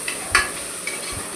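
Potatoes frying in a spiced tempering while being stirred, giving a steady soft sizzle with a few scraping stirs of a spoon against the pan, near and alone.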